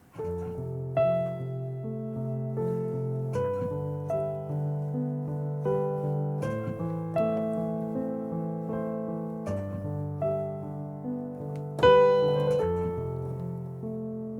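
Piano with the sustain pedal held, playing slow cinematic chords in a restaurant so that each note rings into the next, a steady sustained wash with periodic new chord strikes and no talking.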